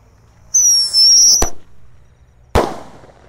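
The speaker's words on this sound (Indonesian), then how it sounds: "Setelah ini kita mulai nyalakan mercon roket Roman candle-nya ya." Rocket Roman candle fireworks lit at night during a Takbiran celebration: a sharp rising whistle for about a second, then a loud crack, and a second sharp bang a moment later, with no talk.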